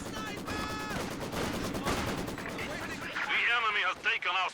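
A Soviet Maxim machine gun fires bursts during a 2v2 Company of Heroes 2 match, with other battle noise around it and a commentator talking over it throughout.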